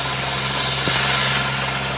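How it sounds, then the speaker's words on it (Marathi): A driverless tractor engine runs steadily at idle, a low continuous hum with a faint knock near the middle, close and unbroken with no talk. "ट्रॅक्टर चालू आहे"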